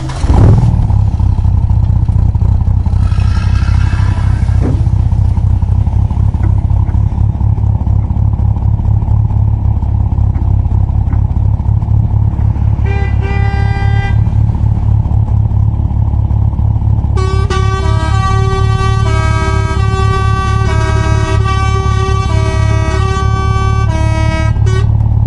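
A toy truck rolls along with a steady low motor drone while bursts of bright, repeated horn-like honks sound up close, the honking growing busier toward the end.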